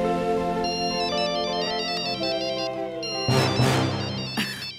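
A cartoon phone's ringtone plays a bright, repeating melodic electronic jingle continuously, with a few clattering noises and thumps near the end.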